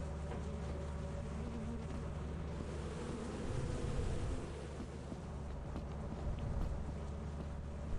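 A steady low buzzing drone of bees from a stolen beehive in the game Lethal Company, continuous and fairly faint with a soft wash of background noise.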